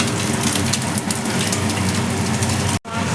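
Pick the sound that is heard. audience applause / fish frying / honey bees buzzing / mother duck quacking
fish frying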